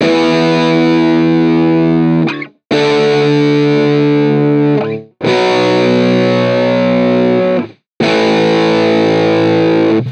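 Heavily distorted metal guitar tone from an Amplitube amp simulator plays in four loud sustained chord phrases, each cut off by a brief silence.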